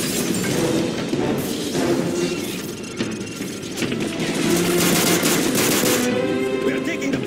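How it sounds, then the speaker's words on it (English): Sustained automatic gunfire in Call of Duty Modern Warfare 3, loud, dense bursts running nonstop over a rumbling engine-like background, with shouted voices faintly mixed in. "Gunfire!"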